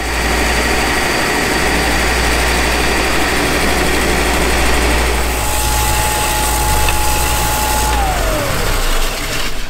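A benchtop belt sander runs steadily, giving a loud, continuous rushing drone with a deep motor hum and no pauses.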